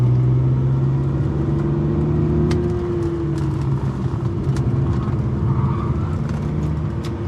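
A front-wheel-drive car's engine drones loudly and steadily from inside the cabin, its pitch sliding gently while being pushed hard toward its handling limit, with tyre and road noise mixed in.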